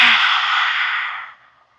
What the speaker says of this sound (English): Take a deep breath in, and as you exhale,